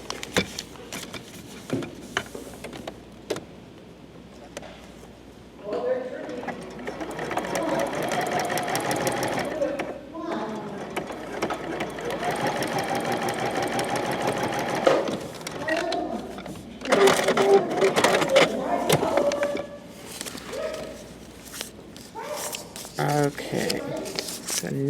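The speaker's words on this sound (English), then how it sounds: "And now I'll get ready and sew it." A sewing machine stitches paper-pieced quilt fabric in long whirring runs of needle chatter, with stops and brief handling noises between bursts, and a person talks at times.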